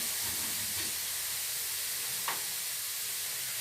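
Garlic sautés in a hot pan with a soft, continuous sizzle and hiss, quiet and even throughout, with a faint brief scrape partway through and no talking.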